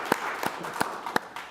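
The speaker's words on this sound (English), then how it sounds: "Let's clap for that." Audience applause at a city council meeting, a short sparse patter of a few hand claps spaced fairly evenly, light and somewhat distant, with no talk.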